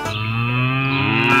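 A single loud, sustained cow moo in a cattle mineral feed advertisement, close and clear with no talking, fading slightly at the end.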